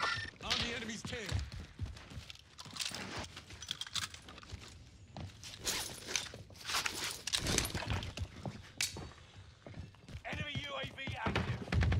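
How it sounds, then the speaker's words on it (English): An enemy player's footsteps sound in Warzone, quick faint steps on hard surfaces scattered among game noise while a player talks over them. "Once again, I can hear footsteps around me"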